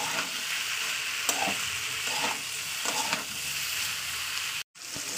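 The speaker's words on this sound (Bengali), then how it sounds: "তো চলুন এবার এটাকে ভালো করে ভাজা করে নেবো।" Green beans fry in fish oil with a dense, even sizzle close by, a few soft stirring knocks, and a brief dropout near the end.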